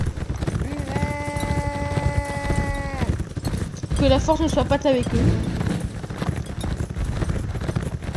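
Horse hooves clip-clopping in a video game as mounted cavalry ride through an event battle, a steady muffled patter running under continuous talk, with a musical sting and shouting in the middle stretch.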